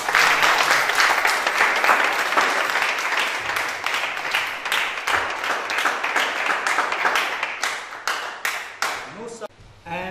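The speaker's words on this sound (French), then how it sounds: "demandons à l'Auguste Assemblée de l'applaudir très fort" Dense, sustained applause from a large assembly crowd at a sports club's general meeting closing the season. The clapping is loud and continuous throughout, with many sharp individual claps layered together before it begins to thin out at the very end.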